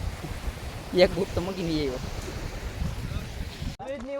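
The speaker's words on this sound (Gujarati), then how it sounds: "1 નંબર દરિયો છે અહીંયા" Sea waves wash against the shore in a steady, windy rush of surf, with someone speaking briefly over the noise partway through.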